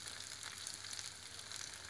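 Croquettes made without egg frying in a pan of hot oil, a steady close-up sizzle and crackle that continues evenly throughout without talk.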